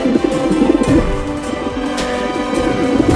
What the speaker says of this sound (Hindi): वो रहा कमीना कबूतर।